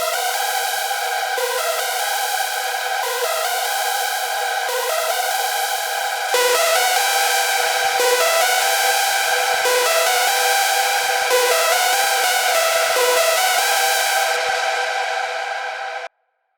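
A bright, buzzy hardstyle lead layer built from two detuned saw wave oscillators with eight voices each, playing a sustained melodic phrase of held notes that shifts pitch, loud and alone, then cuts off at the end.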